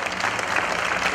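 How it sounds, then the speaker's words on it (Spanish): Audience applause for a municipal art school choir in Villa General Belgrano, a dense, steady clatter of many hands clapping throughout a short stretch, with no voices over it. "Lo despedimos con un fuerte aplauso."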